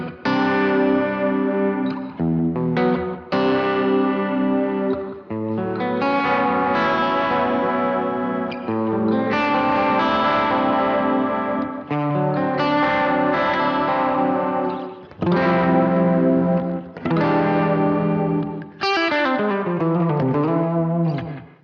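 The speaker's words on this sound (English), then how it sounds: "the first block is an effects block, and it's set up for vibrato" An electric guitar runs through a vibrato effect patch on a BOSS GT-1000CORE, with sustained, wavering chords and notes played in phrases, loud and alone.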